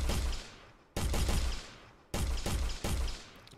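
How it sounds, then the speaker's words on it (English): Three sharp gunshot blasts from a first-person shooter built in Unreal Engine, each a loud, close crack followed by a long fading tail, spaced roughly a second apart. "So for example, when we aim and shoot,"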